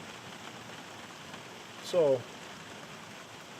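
Light rain falling outdoors, a soft even patter throughout with a brief louder tonal sound near the middle.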